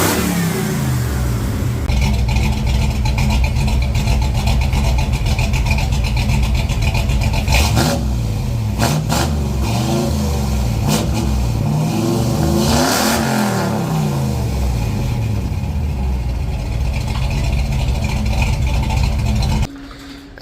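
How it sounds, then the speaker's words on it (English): A 1978 Ford dentside pickup's engine revs hard and steadily, climbing and falling through several throttle swells in a loud, close, continuous roar that cuts off abruptly at the end. "I'm gonna rev her up, see what she advances to, lock her down."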